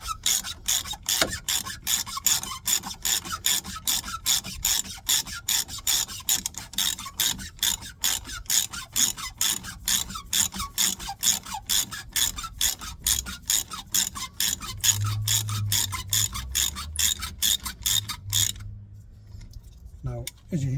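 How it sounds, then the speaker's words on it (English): A ratchet clicks in a fast, regular stream while loosening car brake parts, with dozens of crisp close clicks that stop abruptly near the end, followed by a short low voice. "as you hear the note change in the way the ratchet sounds"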